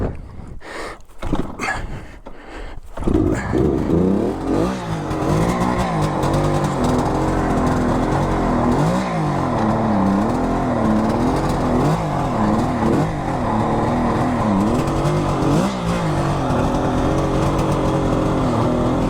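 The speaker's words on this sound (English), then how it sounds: "it's kickstart only, and this starts easy too." A 1974 Kawasaki H2 750 is kickstarted with a few sharp knocks, then the engine catches and runs steadily. Its close, buzzing idle rises and falls in repeated throttle blips.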